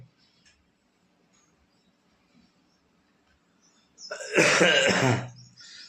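A single burst of harsh coughing erupts after a long quiet stretch, close and loud, lasting about a second before fading.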